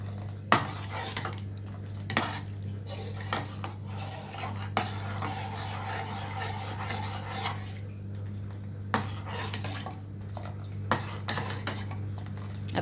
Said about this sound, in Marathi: चांगलं हलवून घ्या.